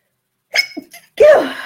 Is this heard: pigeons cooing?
no